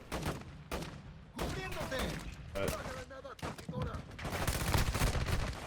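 Shotgun blasts in Warzone Mobile, a string of loud, close booming shots in quick bursts with short gaps between them, mixed with other battle noise and a voice talking over the top.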